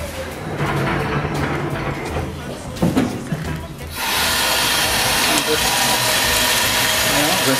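Tap water runs steadily into a kitchen sink while fresh dirty beets are rinsed, handling clatter first, then a louder even spray of running water continuing to the end.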